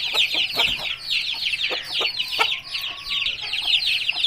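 A Thai cross Aseel rooster clucks over and over in quick, busy bursts, close and fairly loud, with no voices.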